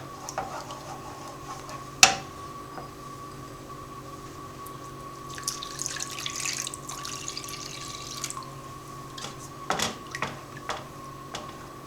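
Tap water runs into a pot or bowl while making American-style hot dogs, a soft continuous trickle with a few sharp clinks and splashes of handling, fairly close and steady.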